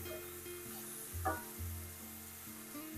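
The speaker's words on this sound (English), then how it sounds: "we're going to add in our onions and carrots. and stir everything together." Onions and carrots sizzle hard in hot oil with pancetta, a close, steady frying hiss with a brief stirring clatter partway through and a faint background hum, with no voices.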